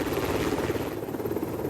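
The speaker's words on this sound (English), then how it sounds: "Using a magnetometer slung under a helicopter, Dr. Glenn Penfield was carrying out surveys" A helicopter carrying a magnetometer slung beneath it flies over the sea off Mexico's Yucatan Peninsula. Its steady, droning rotor and engine noise holds at an even level throughout and carries a faint underlying throb.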